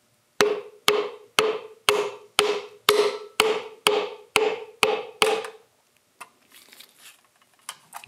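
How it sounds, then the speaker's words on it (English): A piston is tapped down into the cylinder of a John Deere 755 with a clean piece of wood: ten crisp, evenly spaced knocks in quick succession, then a few faint scattered clicks. "just going to start tapping the piston down into the cylinder"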